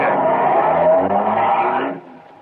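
A car engine rumbles and revs steadily as the vehicle pulls away in an old radio crime drama, loud and close for about two seconds before cutting off.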